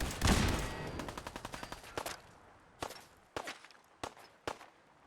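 Gunfire in a video game set around the Super Duper Mart, opening with a rapid automatic burst followed by spaced single loud shots, all sharp and near with no voices.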